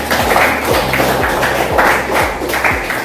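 Students clap their hands together in a classroom, a loud steady patter of many hands with heavy rhythmic thumps pulsing underneath throughout.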